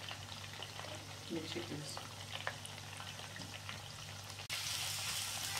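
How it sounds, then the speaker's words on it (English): Onion and mixed vegetables frying in oil on a stove, a steady soft crackling sizzle that brightens near the end, with a person briefly talking over it. "now I want to fry some mixed veg. With onion, I put some oil"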